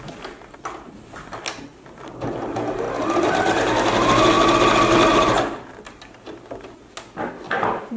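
A sewing machine sews a seam in one sustained, loud run of a couple of seconds, framed by handling clatter before and after.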